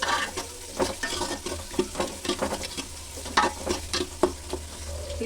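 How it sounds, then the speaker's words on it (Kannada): Chopped onions fry in a pan for mushroom palav, a steady sizzle broken by frequent scraping stirs of a spoon, close and fairly loud with no talk. "ಈರುಳ್ಳಿ ಸ್ವಲ್ಪ ಬ್ರೌನ್ ಬರೋವರೆಗೂ ಫ್ರೈ ಮಾಡ್ಕೊಳ್ಳೋಣ."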